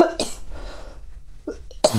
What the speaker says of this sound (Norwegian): Jeg begynner å hoste litt når jeg fatter mye.